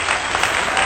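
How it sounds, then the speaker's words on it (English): Applause after passing an exam, a dense even burst of clapping that fills the whole brief moment at steady loudness with no talk over it. "A round of applause for me."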